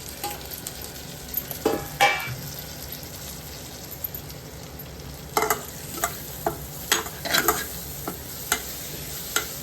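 Veg dalcha fries in oil in a pan, a soft steady sizzle broken by repeated scraping stirs, with clusters of spoon strokes growing busier toward the end.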